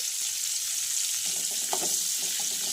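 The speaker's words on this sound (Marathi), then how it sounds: "तर बटर आणि तेलामध्ये हे छान फ्राय करून घ्यायचं आहे।" Whole spices, cardamom, cumin and bay leaf, frying in butter and oil, a continuous soft sizzle with a few light stirring taps partway through.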